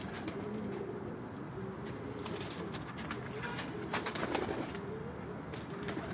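Domestic pigeons on a rooftop loft in Rawalpindi coo steadily in low repeated phrases, with scattered wing flutters and background bustle throughout.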